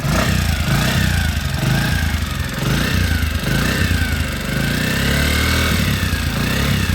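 A kick-started motorcycle engine runs loud and close, idling with a steady low chug throughout.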